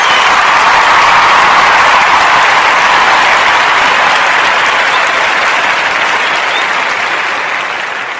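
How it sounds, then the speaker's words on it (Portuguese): Sustained applause from a studio audience on a Portuguese-language radio podcast, a dense steady wash of many hands clapping that fills the clip and tapers slightly at the end. "Uma salva de palmas!"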